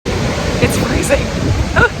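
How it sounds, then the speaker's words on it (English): Strong wind and rolling waves on the shore of Lake Ontario make a steady broadband roar, with wind buffeting the microphone and faint surf wash underneath. "It's not really freezing, but it's very windy. Waves are huge."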